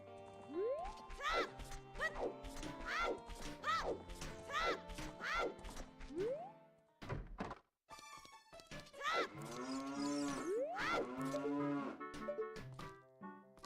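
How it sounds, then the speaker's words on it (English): Cows mooing in the video game Ocarina of Time, several drawn-out moos repeating in a steady run under game music, then a short break and more overlapping moos with loud game effects. "The cows."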